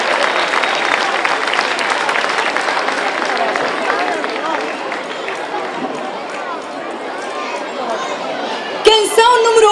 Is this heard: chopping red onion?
no